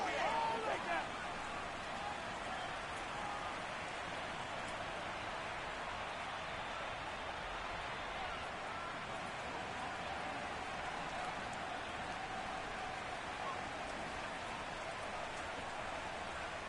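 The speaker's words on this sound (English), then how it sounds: "The rain set to continue as we are underway in the second half." Rain falls during an NFL playoff football game between the Seahawks and 49ers, a soft, steady hiss continuing without a break.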